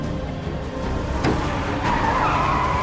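A car braking hard during a chase in a film, a rough skidding rush with a rising tire squeal near the end, fairly loud over a continuous road and engine din.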